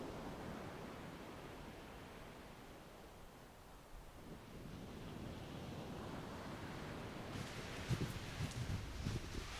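Faint, steady ocean surf washes continuously at a surf championship, a distant broadband roar of breaking waves with light wind noise, swelling slightly louder toward the end.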